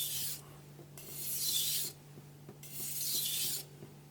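Knife blade drawn across a sharpening stone to flip the burr, two long abrasive strokes with quiet pauses between them, close and clear, no talk.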